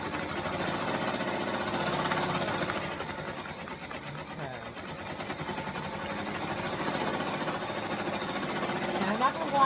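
An embroidery machine stitches a personalized pet gift, a steady rapid mechanical chatter that runs throughout at a constant level.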